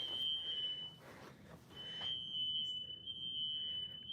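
An indoor smoke alarm goes off with a piercing, steady high-pitched tone that breaks off briefly and then resumes, over faint room noise, with no talk.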